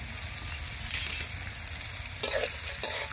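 Chopped onions and green chilies fry in a pan with a dense, continuous sizzle, punctuated by a few louder stirring scrapes, close and steady with no talking.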